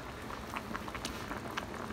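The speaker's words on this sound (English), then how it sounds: "So it's boiling after 15 minutes" Soup bubbles at a steady rolling boil in an electric hotpot with a two-soup divider, with small pops and gurgles over a constant simmering hiss, close by and without talk.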